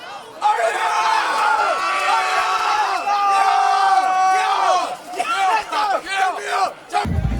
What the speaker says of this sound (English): As you can see, the crowd is hyped and loving what the Eagles are doing.